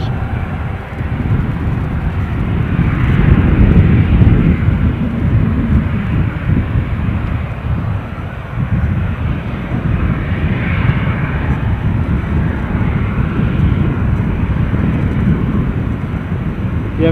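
A Ryanair airliner's jet engines roar at Edinburgh airport. The broad, steady rumble stays loud and fairly close throughout, with no talk over it.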